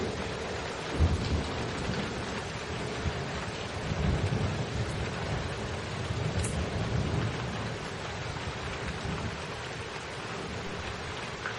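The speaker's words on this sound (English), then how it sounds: "Full-on Fukushima rain." Recorded rain with rolling thunder plays steadily and loud, a dense wash of rainfall with low rumbling swells and wind noise throughout, no voices.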